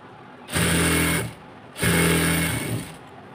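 A sewing machine stitches a palazzo trouser seam with a half-inch margin, running loud and close in two steady bursts of whirring, each under a second long, with a brief pause between them.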